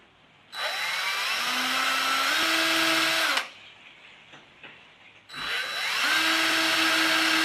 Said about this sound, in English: that'll hold it still while I drill the other holes